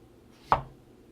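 A single sharp knife chop through chayote on a cutting board, one crisp thud and click that fades quickly in a quiet room.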